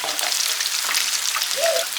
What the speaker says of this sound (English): we're just gonna let these fry up for a couple minutes